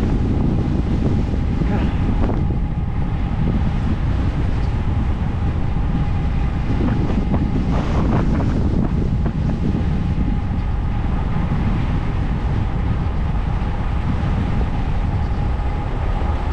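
Loud wind roars and buffets the microphone continuously, a heavy rumbling rush that never lets up.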